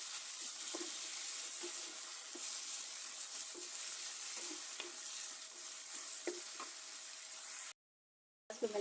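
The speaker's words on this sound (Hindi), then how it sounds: "अब मैं इसमें डालूंगी टमाटर, और टमाटर को भी हल्का सा फ्राई करूँगी।" Tomatoes and onions sizzle steadily in hot oil for a dry cauliflower (gobi) dish, with a constant hiss broken by light, irregular stirring clicks from a spoon against the pan, then a brief dropout to silence near the end.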